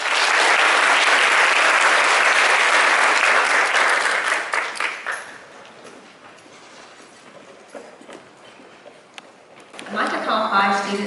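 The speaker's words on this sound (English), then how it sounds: "One more round of applause, please." Audience applause at a middle school 8th grade awards ceremony, loud and dense clapping for about five seconds, then thinning out to scattered claps, with a voice returning near the end.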